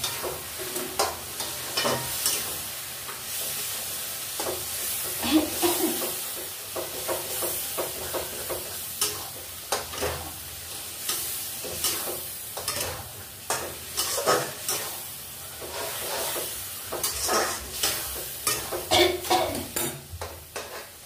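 Taro leaves (kochur shak) being fried and stirred in a pan, with a continuous sizzle under repeated scraping and clinking of a utensil against the pan at an uneven rhythm, close and fairly clear, with no talking.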